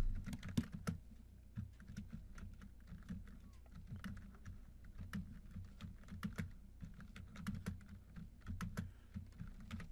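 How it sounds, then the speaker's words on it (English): Rapid, irregular keystrokes on a computer keyboard while writing a document in Microsoft Word 2016, quiet and close, with short pauses between bursts of typing. "So let's type something now."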